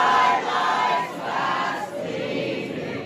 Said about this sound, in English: So the crowd started singing the national anthem.